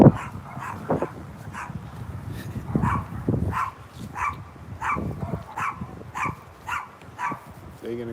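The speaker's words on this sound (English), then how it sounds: "Is that the dog that was barking" A dog barks repeatedly at a steady pace from a moderate distance, with people talking in the background.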